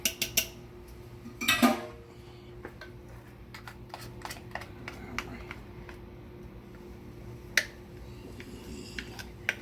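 A metal spoon clinks and scrapes against a bowl while food is scooped toward a 9-inch cast iron skillet for cornbread, a few sharp taps early on followed by sparse light clicks in a quiet kitchen.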